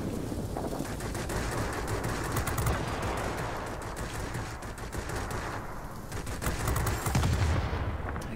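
Rapid, continuous machine-gun fire from aircraft guns in World of Warplanes rattles nonstop, loud and dense, with a few bursts swelling louder near the end.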